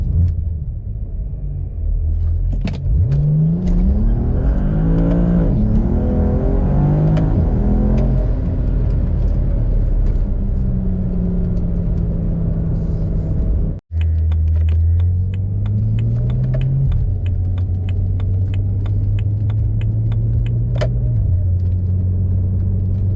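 A BMW N54-engined car with a dual-clutch transmission swap launches on a wet road, its engine roaring loudly and climbing through revs, with a brief cut at a gearshift before it pulls hard again. The run is close, steady and sustained.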